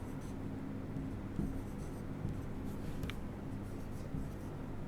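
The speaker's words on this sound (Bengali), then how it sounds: "তাহলে আমি দুটোই লিখে দিচ্ছি।" Chalk or marker writing on a board during a coordinate geometry lesson, faint scratchy strokes with brief taps, sounding close in a quiet room with no talk over it.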